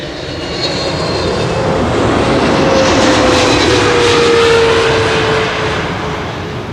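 A Qatar Airways jet arrives at Schiphol on the Kaagbaan, its engine roar swelling as it nears, holding loud with a gliding tonal whine, then fading as it passes, with no voices over it.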